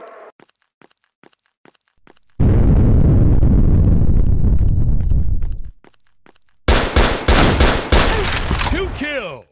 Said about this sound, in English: A missile barrage.